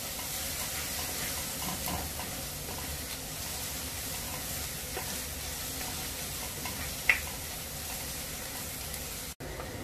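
Onions sizzle in a pan with finely chopped ginger and garlic, cooking for a restaurant-style chicken patiala: a steady, soft frying hiss that runs unbroken, with one brief click near the end and no voices.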